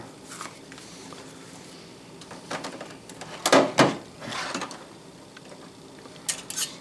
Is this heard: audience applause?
no